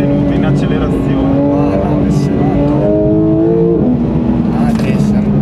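Porsche GT3 RS sports car with a new exhaust accelerating hard, its engine climbing steadily through the revs with a quick gear shift and a loud, continuous roar while someone talks over it.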